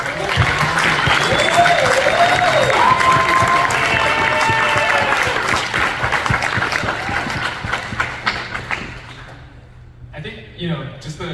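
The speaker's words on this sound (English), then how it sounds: "please give a round of applause to our remarkable" A large VidCon 2023 convention audience breaks into a dense, sustained round of clapping and cheering, mixed with overlapping voices, before thinning into scattered claps toward the end.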